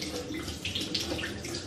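A bathroom tap runs in a steady, close, moderately loud stream while a face is being washed, with no talking.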